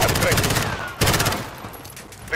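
Gunfire in Call of Duty Modern Warfare (2019) during a veteran-difficulty mission, with two bursts of rapid automatic shots about a second apart, loud and close, mixed with game noise.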